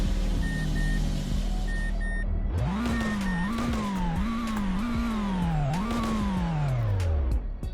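A family hatchback in the Roblox game Greenville revs repeatedly, its engine note climbing and dropping in several rising pulls before winding down, with an intermittent electronic beep heard over the idle early on.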